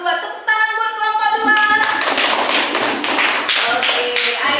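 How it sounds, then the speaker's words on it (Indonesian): In a classroom, applause for a group of students begins just after a spoken voice and grows into a dense, steady burst of many hands clapping together. "Tepuk tangan buat kelompok"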